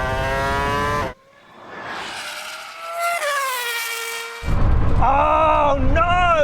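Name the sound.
F1 car and hypercars racing, McMurtry Spéirling, Rimac Nevera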